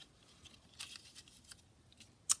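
Scissors snip through a paper image cut from a book for a craft journal, giving faint, close crisp snips scattered over a quiet background, with one sharper cut at the end.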